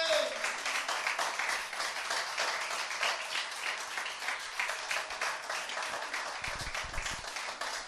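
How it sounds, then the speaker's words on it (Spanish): Congregational applause at a church service, steady dense clapping from a crowd filling the room for about eight seconds, with voices mixed in throughout. "Dale un aplauso al Rey de Gloria"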